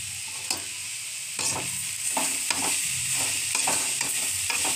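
Chutney ingredients seasoned with salt and pepper are sautéed in a pan, producing a steady close sizzle broken by repeated scraping stirs of a spatula at an uneven rhythm.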